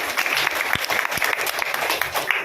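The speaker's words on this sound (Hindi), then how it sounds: "बहुत सुंदर, तालियां बजा लीजिए अपने लिए।" An audience at a meditation talk breaks into steady, dense applause, with many hands clapping at once and a few sharper claps standing out.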